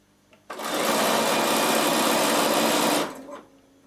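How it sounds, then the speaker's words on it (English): A sewing machine stitches the seams of a zippered knitting bag in one steady, loud run of about two and a half seconds that starts and stops abruptly, with quiet room sound on either side. "I just keep my seams together, and my machine will do all the work."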